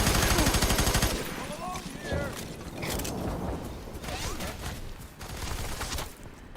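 Sustained automatic gunfire in the shooter F.E.A.R. 3, with a dense rapid burst at first, then scattered bursts, clatter and combat noise, and speech mixed in underneath.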